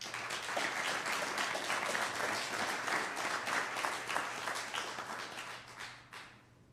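Audience applause at a business award ceremony, a steady spread of many people clapping for several seconds, fairly faint and roomy, fading out at the end.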